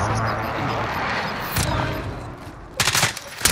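Bursts of gunfire ring out as players shoot each other in a multiplayer game, with a busy noisy bed of sound throughout and a sharper cluster of close, loud shots near the end.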